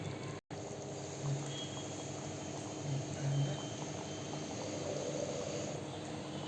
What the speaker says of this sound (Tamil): இப்போ தேங்காய் ஊற்றி நல்லா கொதிச்சிருச்சுங்க